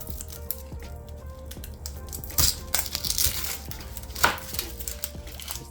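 A knife cuts through a big onion on a board, producing a few crunchy, crisp cracks and a sharp chop among quieter handling clatter, close and without talk.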